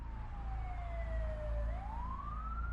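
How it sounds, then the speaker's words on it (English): An ambulance siren wails as it speeds off to the hospital: one long tone glides down in pitch, then sweeps back up, over a steady low road rumble at moderate distance. "the EMTs loaded Mark into the back of the ambulance and sped off to the hospital."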